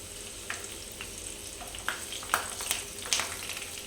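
Two thinly sliced green chillies frying in hot oil for cabbage 65, a steady close sizzle with scattered sharp pops and crackles, with no talking.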